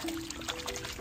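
Water pouring over a soft shell clam being rinsed at the beach, a brief faint continuous splashing trickle lasting about a second.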